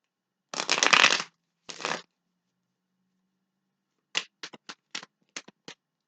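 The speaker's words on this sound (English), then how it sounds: "Okay, one more shuffle." Tarot cards are shuffled by hand in two long riffling bursts, then a pause, then a run of six or seven short crisp snaps and taps as the deck is squared, close and moderately loud with no voices.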